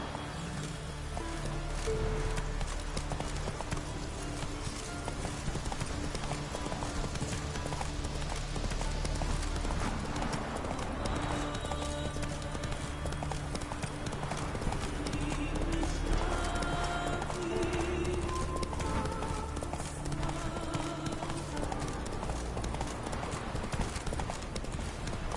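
Horse hooves gallop in The Witcher 3, a steady rapid clip-clop that runs loud and continuous throughout, with game music and ambience beneath.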